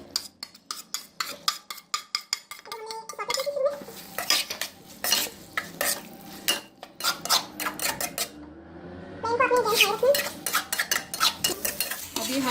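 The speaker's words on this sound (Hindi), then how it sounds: "इस पॉइंट पे हम अपनी सब्ज़ी डालेंगे इसके अंदर" Vegetables tossed into a pan of chicken jalfrezi and stirred, rapid rhythmic clanks and scrapes of a spoon on metal over a light sizzle, close and busy.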